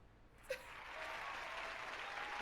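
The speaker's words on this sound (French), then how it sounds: "J'applaudis." A light, faint patter of clapping rises after a brief knock and carries on softly, with a quiet voice in the background.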